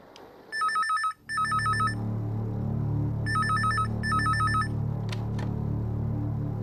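A telephone rings in two short bursts of electronic trills, then two more, while a low hum and background noise continue throughout.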